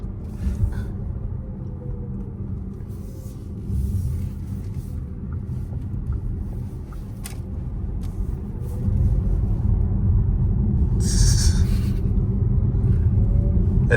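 Cupra Born electric car accelerating from inside the cabin, a steady low road rumble and motor hum that swells louder partway through with no talk over it.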